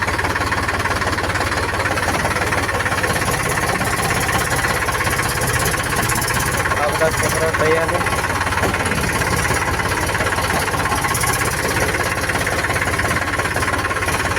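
A tractor engine idles nearby on a farm in the rain, a steady loud knocking chug with a rapid even rhythm throughout, while a voice speaks briefly over it.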